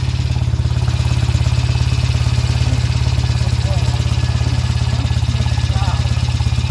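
A 1975 Norton Commando Mk3 motorcycle engine idles steadily at close range, its low, even thrum running unbroken with faint mechanical clatter on top.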